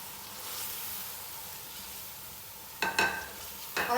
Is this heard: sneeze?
no